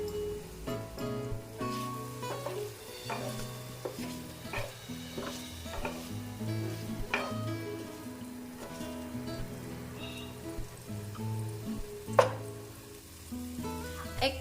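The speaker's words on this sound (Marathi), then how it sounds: "बारीक वरतीच पनीर परतून घ्यायचं" Paneer sautéed and stirred in a pan over low heat with spices, a steady soft sizzle broken by repeated scraping and stirring clinks, close and continuous with no talking.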